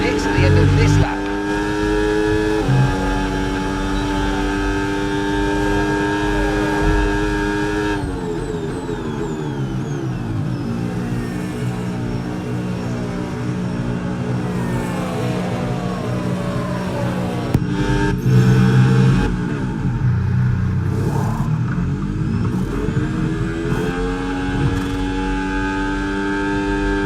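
A Formula 1 car in the F1 26 racing game at the Brazilian Grand Prix, a loud continuous engine whine shifting pitch through gear changes and slowing for the pits, with a commentator-style voice talking over it.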